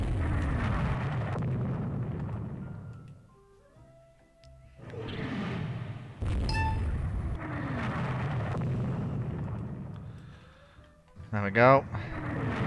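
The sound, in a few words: naval gunfire and shell explosions in the video game Rule The Waves 3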